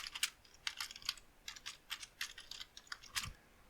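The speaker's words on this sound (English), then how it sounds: "So I'm just going to type that in here" Someone types a command on a Mac computer keyboard, producing a quick, irregular run of light key clicks, close and fairly quiet, with no talking.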